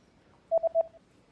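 A short burst of telephone keypad tones, three or four quick beeps in a row at steady pitch, clean and isolated against near silence.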